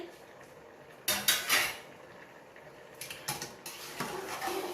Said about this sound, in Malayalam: അതൊക്കെ ഒന്ന് തുറന്ന് നോക്കണ്ടേ നമ്മളെ ചോറ് എന്തായിന്ന്